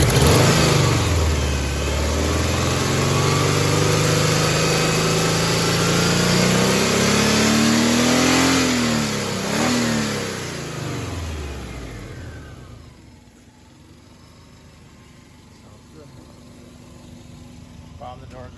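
A rusty, high-mileage Subaru Legacy Outback wagon with a 2.5 engine and 5-speed manual, recently fitted with a new timing belt and clutch, revs loudly up and down several times, then settles back to a quieter idle.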